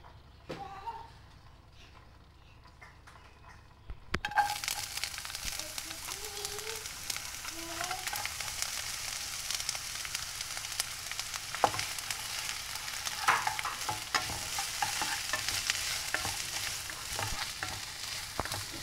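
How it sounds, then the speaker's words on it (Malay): Quiet start, then a steady sizzle of small shallots frying in oil for a Malaysian gulai sayur asam, crackling and hissing continuously up close, with occasional stirring scrapes. "Sekarang dia nak goreng bawang merah kecil."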